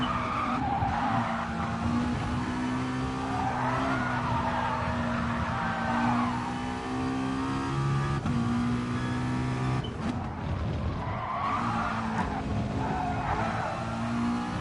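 A McLaren GT4-class race car skids around the Spa circuit in a racing video game, tyres squealing over a steady engine drone, continuous and fairly loud with shifting pitch as the car slides through corners.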